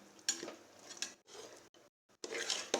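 A spoon stirs mutton biryani, with rice and meat in a pot, producing bursts of close scraping and wet shuffling separated by short silences.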